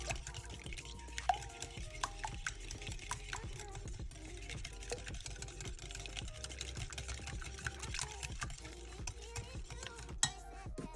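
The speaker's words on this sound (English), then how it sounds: "And here we have our melted butter. And we're going to whisk all of this together." Melted butter and vegetable oil being whisked into fudge brownie batter in a bowl, a quick rapid ticking and clicking of the whisk against the bowl, steady and close throughout.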